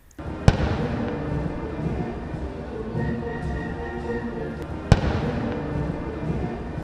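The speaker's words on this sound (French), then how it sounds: "sur fond de 21 coups de canon" Two sharp cannon booms from a 21-gun salute at a military parade, spaced several seconds apart, ring out over a loud, continuous crowd and outdoor din.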